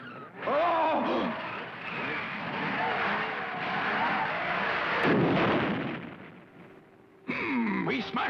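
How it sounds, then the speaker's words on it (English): A car crashes during a race in the Speed Racer cartoon, with a long, loud roaring rumble of impact and grinding that runs for several seconds, briefly drops away, then surges back. "He smashed the car!"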